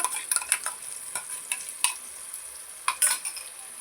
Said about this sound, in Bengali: এটা দিয়ে ভালো করে নেড়ে ছেড়ে এটাও কিছুক্ষণ কষিয়ে নেব